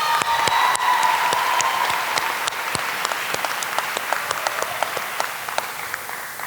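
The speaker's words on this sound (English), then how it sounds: "Can we all give them a round of applause?" A crowd applauds graduating seniors at a senior recognition ceremony, sustained clapping from many hands with distinct sharp individual claps standing out, gradually tapering in loudness.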